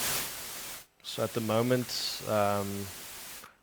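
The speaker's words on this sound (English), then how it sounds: "I'm going to use the signal generator to demonstrate it." A Soundcraft Vi mixing console signal generator puts out steady broadband white noise that cuts off briefly, then carries on under a man's close speech.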